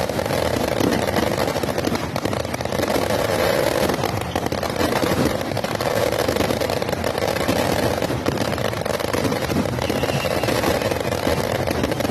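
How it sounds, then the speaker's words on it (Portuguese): Fireworks set off in celebration near kilometre 40 in Seropédica, Rio de Janeiro, heard as a continuous loud roar of crackling bursts and rumbling noise with no pauses. "Na comemoração foram flagrados várias manifestações de solta de fogos no quilômetro 40 em Seropédica."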